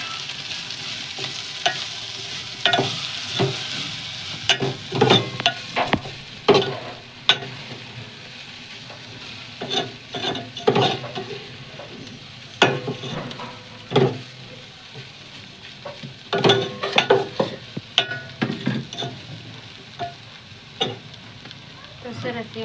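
Flattened rice poha fried and gently stirred in a pan, a continuous close sizzle broken by repeated scraping and clattering strokes of the spoon at an uneven rhythm, with some faint talking in the background.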